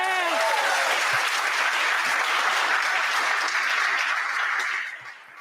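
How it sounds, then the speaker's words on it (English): An audience at a game jam final gives a lead programmer a hearty round of applause, dense clapping from many people after a brief voice, sustained loudly before fading out at the end. "can you give him a round of applause, please?"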